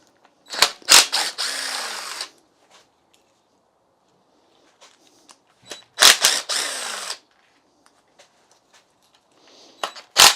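Rocker cover bolts coming off a Mini Cooper engine with two close bursts of a power tool or ratchet whirring, each opening with sharp clicks, separated by quiet gaps with small mechanical taps.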